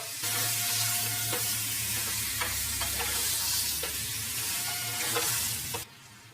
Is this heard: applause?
no